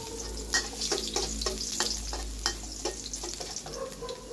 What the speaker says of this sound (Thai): มาค่ะไฟร้อนแล้ว ใส่กระเทียมลงไปเลย